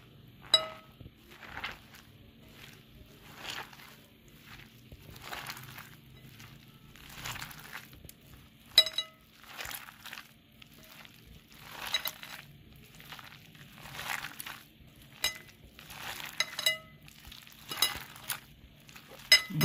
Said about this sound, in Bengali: এবার সুন্দর করে মেখে নেব।